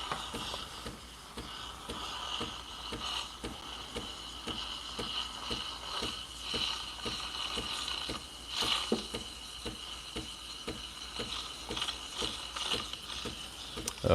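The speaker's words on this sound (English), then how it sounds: "And then I'm gonna submerge to heat up the rest of milk." An espresso machine's steam wand heats milk with a steady, moderately loud hiss and rapid rhythmic ticking and gurgling from the submerged tip, with no talking.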